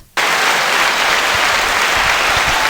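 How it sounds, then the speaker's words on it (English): Hand claps in a casual home podcast setting, a sudden burst of dense, steady clapping after a moment of quiet, continuing loudly without talk. "Let's go commercial with my claps."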